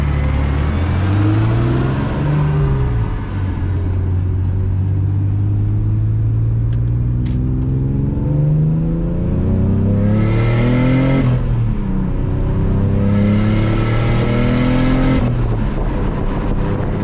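A turbocharged BMW E46 M3 with an S54 engine revs repeatedly while misfiring, loud and close, the pitch rising and falling through several uneven revs over a steady rumbling idle, with no talking.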